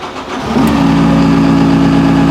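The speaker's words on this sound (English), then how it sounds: "once that light goes off, then you can start your machine" A JCB 260 skid steer's diesel engine cranks and catches within half a second, then settles into a loud, steady, close idle rumble with no talking.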